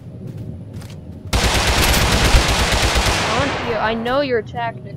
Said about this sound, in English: he's shooting me. What are you shooting me with?